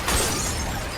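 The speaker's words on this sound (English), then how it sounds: "there was an explosion of sound, of glass shattering and metal compressing as the cop car slammed into something solid" A brief, dense burst of noise like glass shattering and metal crushing as a police car slams into something solid, loud and close, filling the whole moment.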